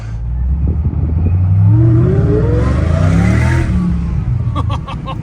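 A car with a newly fitted exhaust revs and accelerates up close, engine note rising and sweeping upward, then settling into a steady drone with some clatter toward the end.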